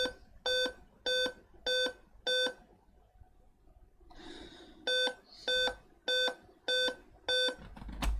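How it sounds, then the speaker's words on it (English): A Dell 15r laptop at power-on repeats a series of loud electronic beeps in short evenly spaced bursts, five in a row, a pause with faint rustling, then six more, in a quiet room. "It's beeping."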